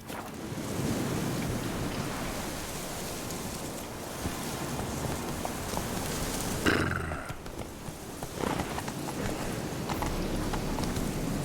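Horse hooves clip-clop steadily in The Witcher 3 game, a continuous galloping patter over a rain-like ambient wash, with a brief louder thud midway.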